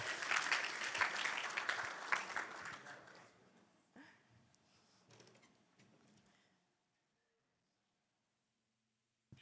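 Church congregation applause welcoming a pastor, loud dense clapping for the first few seconds that thins out, leaving a few scattered claps and faint room noise before near silence.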